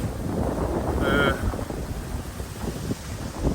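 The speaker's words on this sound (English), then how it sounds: "You can hear me over this wind." Wind gusts buffet the microphone beside the York city walls, a continuous low rumble with a possible faint voice underneath.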